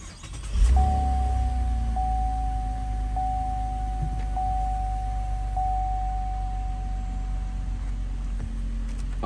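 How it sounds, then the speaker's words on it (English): Push-button start of a Chevrolet Impala with the brake pressed: a brief chime, then a steady engine idle hum continuing near and even throughout, with a repeating electronic tone over it and no talk. "And then when you want to turn on the full car,"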